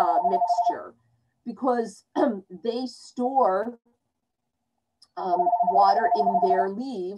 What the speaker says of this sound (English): Sorry about that phone, just letting it ring.